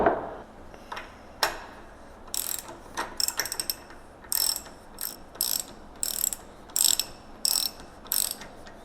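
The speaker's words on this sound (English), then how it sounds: "we'll grab our 25mm socket and we'll start to screw things down here" A ratchet turns a 25mm socket to tighten the fork bolts on an MV Agusta F3 motorcycle, heard as repeated bursts of quick clicking with short pauses between strokes, close and clear over a quiet background.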